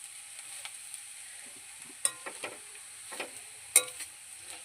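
Jackfruit curry stirred and cooking in a pan, with light sizzling under a few sharp spoon scrapes and clinks against the pan. The sounds are scattered and moderately close, with no talking.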